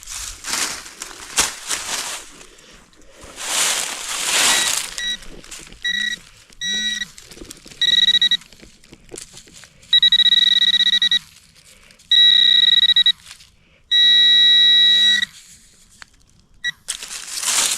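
A metal detector gives low, steady tones over a buried tombac button in Virginia backwoods, sounding as a run of repeated short beeps and then longer sustained tones, close and clear, after earlier rustling and scraping.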